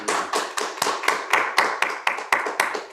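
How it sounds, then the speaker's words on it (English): Audience applause after a speech, heard as a dense, fairly near patter of many clapping hands with sharp bursts recurring in a steady rhythm, no talking over it. "I don't know if you can hear the applause, but it's pretty strong here"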